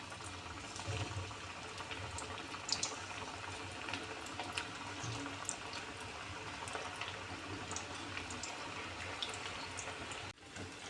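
Bread patties frying in hot oil over low gas, a continuous soft bubbling sizzle heard close and alone, steady throughout before a brief break near the end.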